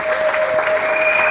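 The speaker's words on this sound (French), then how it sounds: "Applaudissons pour nos deux mamans." An audience claps loudly and steadily for two mothers at an International Women's Day celebration, a dense continuous burst of applause.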